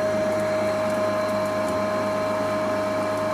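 A Kity 429 spindle moulder running steadily with a sharp constant whine and a broad mechanical hum, loud and close, no voices.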